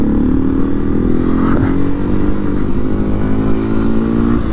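A small 250 motorcycle rides by, a loud nearby engine drone whose pitch slides steadily as it passes, running continuously with no talking.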